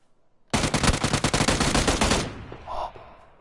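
A fast burst of close, loud automatic gunshots in PUBG rattles for under two seconds, then cuts off into a fading echo and a brief faint tone.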